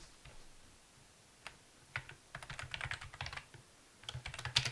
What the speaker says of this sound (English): Oh, I can use my Japanese keyboard.